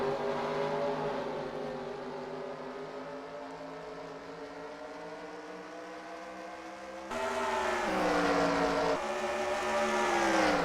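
Race cars roar together at Eldora Speedway just after the green flag, a loud dense engine drone that holds steady and then surges louder as the pack accelerates past.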